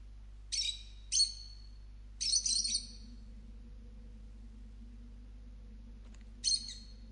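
Bright, short bird calls in the video game Virginia, a few chirping bursts in quick pairs and then a pause before one more, set over a quiet low hum.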